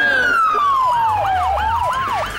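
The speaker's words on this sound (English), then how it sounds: "Why do you think it's got a siren on?" A police vehicle siren wails loudly and close during a street protest at the Democratic National Convention, its pitch sweeping up and down in a rapid repeating yelp with traffic rumble beneath.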